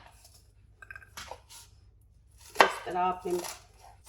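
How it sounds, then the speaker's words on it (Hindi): A knife chops through onions on a board while preparing an inexpensive biryani made without chicken or meat, with a few close, crisp cuts followed by someone speaking. "प्याज को इस तरह आपने काट लेना है"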